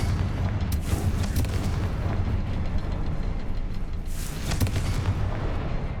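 A fiery blast spell from the Hogwarts Legacy video game, cast on spider webs, gives a steady rumbling roar with a few sharp crackles and pops on top, loud and sustained with no voices.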